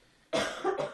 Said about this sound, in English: I'm going to back away from the mic and cough my brains out right now